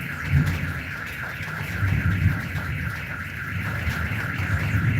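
A vehicle alarm sounding outdoors on a rainy day, heard from a balcony as a steady, continuous electronic tone that holds at a moderate level throughout, with a low rumble underneath.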